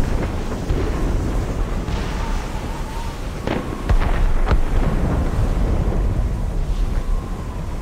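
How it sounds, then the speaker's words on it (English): Several deep booming cannon blasts in the video game Assassin's Creed Rogue, in a foggy ship battle, sound over a rushing, windy background, a couple landing close together, like distant heavy guns firing. "Cannon fire. Deep within the fog."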